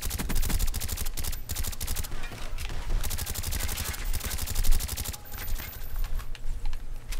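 Rapid automatic gunfire in Call of Duty: Black Ops, dense fast bursts of shots rattling almost continuously with brief gaps, loud and close in the game mix.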